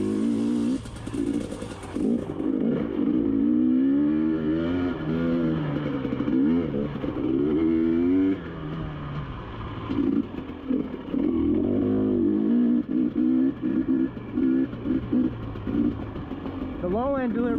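A 2022 GasGas EC300 two-stroke dirt bike engine runs and revs, a loud, close buzzing drone that rises and falls through several throttle changes, with a person talking over it.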